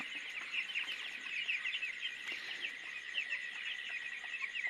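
Flock of 14-day-old chickens calling, a dense continuous chorus of high chirps and clucks, fairly faint and steady.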